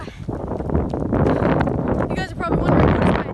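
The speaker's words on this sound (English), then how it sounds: "Oh, that's windy." Strong outdoor wind buffets the microphone in loud, uneven rumbling gusts, with a person's voice briefly audible over it.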